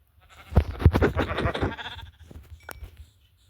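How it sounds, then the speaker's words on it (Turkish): Minecraft sheep bleat in the video game, a couple of clear, wavering baa calls close up, followed by quieter game sounds. "Bol bol koyun lazım bize."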